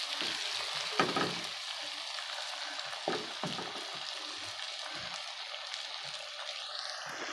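Garlic paste frying in a pan gives a steady, soft sizzle with a few scraping stirs and clinks, fairly quiet and without voices.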